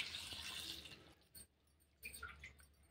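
Water being poured into a rajma masala curry, a steady splashing pour that fades out after about a second, followed by a few faint drips and stirs.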